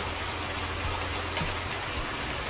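Steady rain falls outdoors in rural Thuringia near cattle, a dense, even hiss of drops on surfaces that stays constant and close throughout, with no voices.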